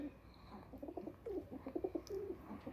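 Soft, repeated cooing of a Teddy pigeon in low throaty bursts, fairly close, with a faint higher chirp or two in the background.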